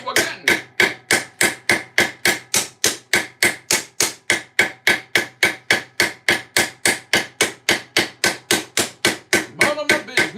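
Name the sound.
hammering rivets on armour in a garage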